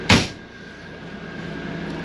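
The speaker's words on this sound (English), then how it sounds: "Close this door and save this AC." A Class C motorhome door, on a 2015 Thor Four Winds 28F, shuts with a single sharp close near the start, followed by a steady hum of air conditioning.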